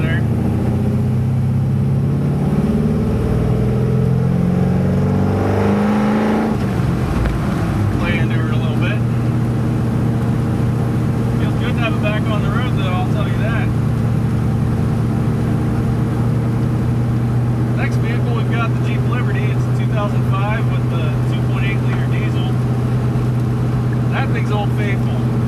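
An old Squarebody pickup truck, kept in the family since new, cruises down the road with a loud, steady, low engine drone that shifts in pitch early on, then holds constant while a voice talks intermittently over it.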